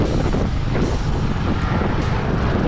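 Strong wind buffets the microphone during a mountain drive through Mindoro, a steady, loud, broadband roar with continuous low rumble and no pauses.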